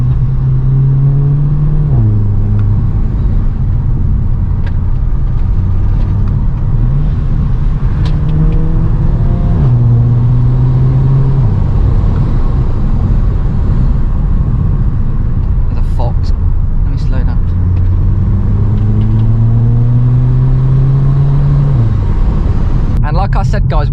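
A Volkswagen Scirocco engine revs up loud and steady through repeated climbs in pitch after a downshift into second gear, with a constant close drone of engine and road noise throughout.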